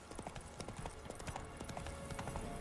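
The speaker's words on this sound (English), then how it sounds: "I hate the horses in this game" Horse hooves clip-clop in a quick steady rhythm in The Witcher 3 video game, faint and continuous, with scattered game sounds around them.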